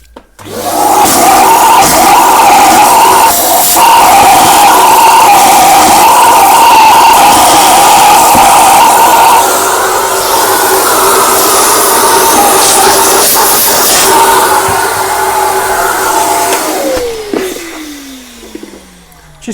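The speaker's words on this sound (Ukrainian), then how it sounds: "Так, пилососом це все." A vacuum cleaner roars loud and close while cleaning a Lelit coffee grinder, its pitch dipping slightly partway through, then the motor switches off and winds down with a falling whine.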